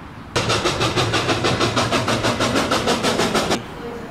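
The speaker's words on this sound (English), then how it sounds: "The train is carrying only soldiers this time." A train carrying soldiers gives off a loud, steady rumble with rhythmic pulsing, as of wheels over rail joints. It starts abruptly and cuts off near the end, with no talk over it.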